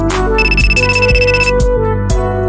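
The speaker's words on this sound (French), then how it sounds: "Et la sonnerie incessante du téléphone me réveille." A synthesized telephone ringtone in a video game trills in repeated bursts, loud and close, over a steady electronic music bed.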